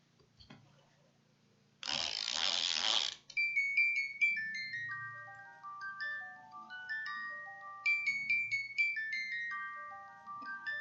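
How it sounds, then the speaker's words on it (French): A handmade fabric music box, pulled by a cloth square, gives a brief whirring wind-up and then a quiet, tinkling melody of bright plucked notes that continues steadily to the end. "notre boîte à musique est terminée"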